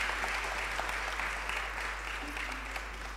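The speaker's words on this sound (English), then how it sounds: "So let's give him another round of applause." A conference audience gives a round of applause, a steady, moderately distant clapping that fades slightly toward the end, with a low electrical hum underneath.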